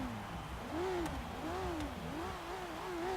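Turbocharged Volvo V60 Polestar engine in Forza Horizon 3 revving repeatedly, its pitch rising and falling in wavering pulls at moderate distance.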